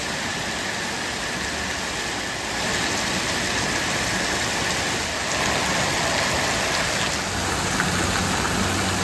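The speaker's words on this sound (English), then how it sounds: "Yeah, it's raining a bit." Steady rain falls in a constant dense hiss, fairly loud and close, with no voices.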